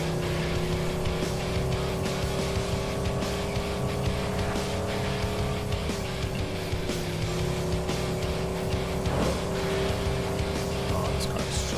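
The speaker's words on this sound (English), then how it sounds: "Oh, this car is so much faster." A racing car engine in a driving video game, a steady loud droning roar held throughout at near-constant pitch, with faint talk underneath.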